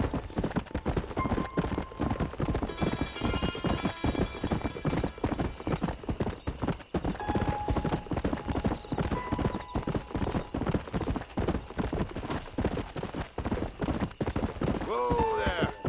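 A horse gallops with steady, rapid hoofbeats throughout in the Western video game Red Dead Redemption, with talk over the hooves and a brief whinny near the end.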